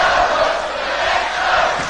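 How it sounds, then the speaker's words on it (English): A basketball arena crowd at a BBL Championship game roars steadily and loudly with massed cheering and shouting, a dense continuous wall of voices with no break. "So the crowd here looking to lift their team."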